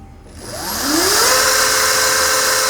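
A Flipsky FT85GS electric bike motor on its low speed setting spins up with a rising whine and settles into a steady, loud whir.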